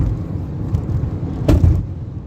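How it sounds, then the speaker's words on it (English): Used MINI hatchback cruising in fifth gear, a low steady engine and road rumble close up inside the cabin, with a brief louder bump or thump partway through and no talking. "I'm up into 5th already, I think it is, and I've got bags of torque still available to me."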